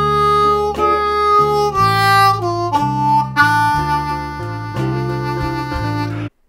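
Solo blues harmonica lick in third position, lower octave, built around a step-and-a-half draw bend, a run of held and bending reedy notes with rich low chords, loud and close, ending abruptly.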